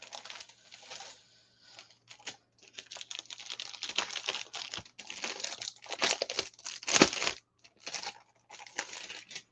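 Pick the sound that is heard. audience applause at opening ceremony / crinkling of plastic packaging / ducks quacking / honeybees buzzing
crinkling of plastic packaging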